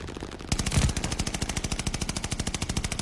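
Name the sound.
gunfire at the hard point in Call of Duty Vanguard video game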